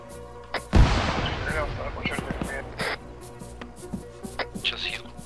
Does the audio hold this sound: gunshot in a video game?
yes